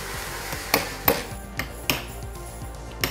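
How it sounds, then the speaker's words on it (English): A hammer strikes a big pin drifter to punch the pin on a Plum R120 ski binding heel, giving sharp metallic taps at irregular intervals, close and fairly loud, with several louder blows among lighter ones. "So we'll use the big pin drifter and the hammer."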